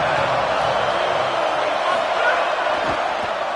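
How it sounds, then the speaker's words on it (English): A large football stadium crowd at an Indiana game produces a constant, loud, distant roar that hangs steady throughout, with a commentator's voice talking over it. "This crowd ready to make its presence known."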